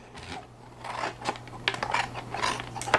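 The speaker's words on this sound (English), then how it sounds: "I'm going to just cut right down that fold line" Scissors cutting paper along a fold line, a series of close, crisp snips and rustles at an irregular pace.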